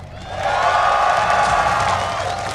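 A packed esports audience at a League of Legends world championship in downtown Los Angeles cheers and whoops, the roar swelling loud after a moment and holding steady, with some voices mixed in.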